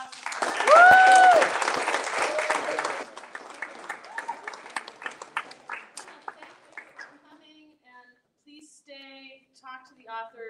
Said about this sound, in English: Please give our readers another round of applause.